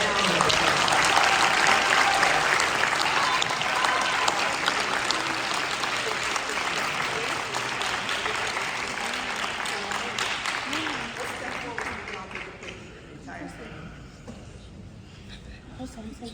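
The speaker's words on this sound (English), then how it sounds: "Please give her a round of applause." At an LA County ceremony, an audience claps in steady, sustained applause that slowly tapers off, with voices faintly underneath.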